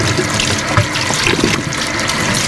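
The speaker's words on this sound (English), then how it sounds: "you have to make sure all of the dye is rinsed out of the shirt" Cold water running hard from a tap over a tie-dyed shirt being rinsed, a loud, steady, close splashing gush that continues throughout.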